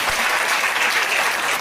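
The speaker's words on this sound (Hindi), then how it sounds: "मैं चाहता हूं कि आप लोग जोरदार तालियों से मेरी बहन प्रतिमा बागरी का सम्मान करें।" A crowd at a political youth rally applauds with a short, loud, dense burst of clapping.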